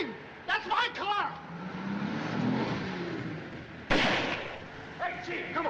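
Car in a 1942 crime film revving and pulling away, a steady engine rumble with a sharp bang partway through, while people shout over it.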